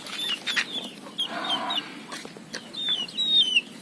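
Rooster clucking near a rural provincial home, with several short clucks and a burst of chirpy calls spread across the moment, loud and close against faint background birdsong.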